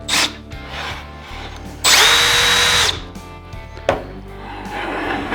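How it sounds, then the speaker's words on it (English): A power drill with a 3/8 bit whirs in short bursts, one loud sustained spell of boring a 3/8-deep hole into wood between quieter idle and handling noises. "I used the 3/8 drill, drilled like a 3/8 deep hole"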